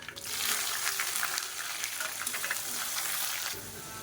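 About ten small shallots and a finely chopped large onion sauté in hot oil with mustard, fennel and fenugreek seeds, giving a steady, close, loud sizzle with fine crackling throughout and a slight drop near the end.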